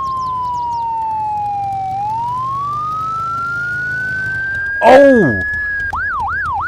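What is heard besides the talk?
loud emergency vehicle siren passing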